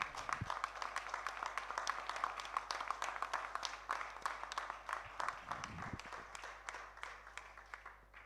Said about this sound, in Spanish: Un aplauso muy grande para ella.